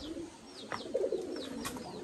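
Pigeons coo softly in a flock, several low rolling calls and a few higher chirps scattered over about two seconds, faint against quiet outdoor background noise.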